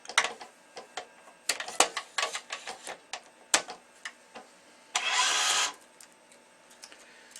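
Stringing machine on a Prince O3 Tour racket: close clicks and clacks as a clamp is set, then a brief steady whirring burst as the tensioner pulls the last main string tight.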